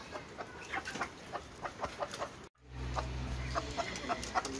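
Repeated soft clucks from a chicken with a respiratory infection close by, interrupted by a brief cut, then the clucking continues over a low background hum.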